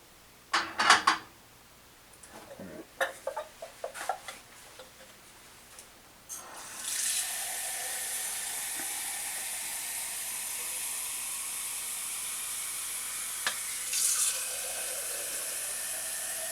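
A few clunks and knocks of a pasta pot being handled at the sink, then tap water gushes steadily into the pot for about ten seconds, close and fairly quiet.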